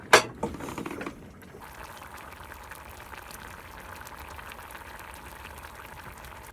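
A clatter at the start gives way to a steady bubbling simmer of liquid boiling in a pot aboard a sailboat, a soft continuous fizzing that holds evenly throughout.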